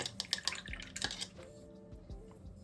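A paint brush is swished and tapped in a water pot, making quick, close drips and splashes that fade to quieter trickles.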